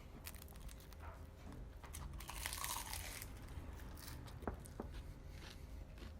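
A crunchy Thai spring roll is bitten and chewed close up, giving quiet crackling crunches and chewing noises with no talk.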